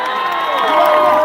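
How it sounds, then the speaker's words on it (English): A large protest crowd gathered for Palestine applauds and cheers in a dense, loud, continuous wash of clapping and shouting, close and filling the space. "Can we give a big round of applause to Paul Pogba and Ahmed Diallo?"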